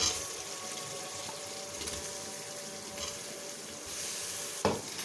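Chicken frying in a pot while being stirred for a chana dal chicken curry, a steady soft sizzle with a faint scrape and a brief louder clatter near the end.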